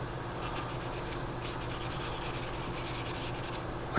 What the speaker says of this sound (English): Situations like this, I like to sand.